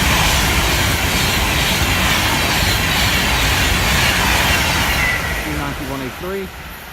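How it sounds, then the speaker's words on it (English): A Virgin Trains Class 390 Pendolino bound for London Euston on the West Coast Main Line at Tamworth passes close by with a loud, sustained rushing roar that stays steady, then eases away near the end, with faint voices underneath. "here comes another Virgin Trains Pendolino service on its way to London Euston"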